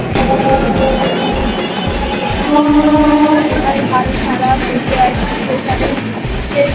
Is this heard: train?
yes